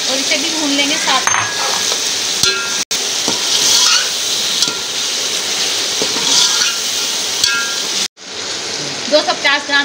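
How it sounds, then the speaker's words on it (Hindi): Beef pieces for yakhni pulao fry with spices in a pan, a loud, continuous crackling sizzle with stirring scrapes, briefly cutting out before resuming. "जो गोश्त हमने अलहदा किया था इसे हम डाल देंगे और इसे भी भून लेंगे साथ।"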